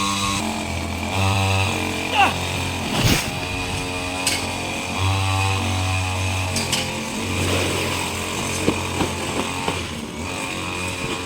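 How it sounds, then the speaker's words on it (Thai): A Makita 411 two-stroke brush cutter cutting grass, its engine buzzing steadily close by, revving up and dropping back repeatedly as it works through the vegetation. "จบงานตัดหญ้าด้วยเครื่อง 411 ของนาคิตะทั้งสองเครื่อง"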